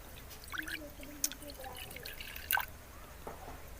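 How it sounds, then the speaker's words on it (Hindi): Half a cup of milk poured into a bowl, a soft liquid trickle and drip spread across a few seconds, faint and close, with a voice talking over part of it. "बाउल के अंदर मैं डाल रही हूँ आधा कप दूध"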